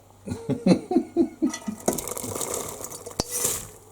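Peas, carrots and onion tipped into a hot pan of beef mince, a quick run of knocks and clatters followed by a rising sizzle with a single sharp tap, close up.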